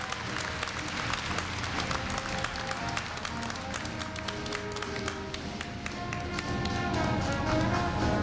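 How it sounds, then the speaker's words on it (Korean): Steady applause from a large audience at a Korea University freshman entrance ceremony, dense clapping that continues throughout and swells a little near the end. "큰 박수 부탁드립니다."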